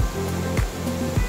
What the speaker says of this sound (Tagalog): Yan, Takawa Falls.